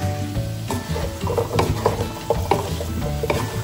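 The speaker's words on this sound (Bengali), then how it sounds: "পেঁয়াজ রসুনটা একটুখানি ভেজে নিয়েছি, এখন আমি এর মধ্যে আলু আর বেগুনটা দিয়ে দেবো" Potato and eggplant go into a pan of frying onion and garlic, sizzling loudly and close, with intermittent scraping and stirring clatter against the pan.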